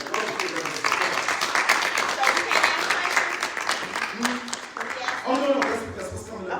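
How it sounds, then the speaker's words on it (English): Audience applause for township supervisor debate candidates at a community forum, a dense, steady wash of clapping from a room full of residents that carries on throughout, with some voices mixed in. "can we please give all of our candidates a round of applause?"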